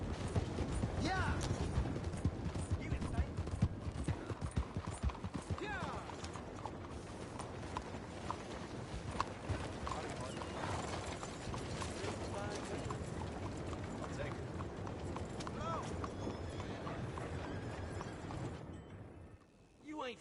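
Horse hooves clip-clopping at a walking pace in Red Dead Redemption 2, with creaking tack and mechanical clicks alongside and game voices talking in the background.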